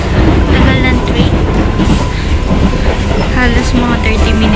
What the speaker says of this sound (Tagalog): Nakakatawa yung tunog ng train.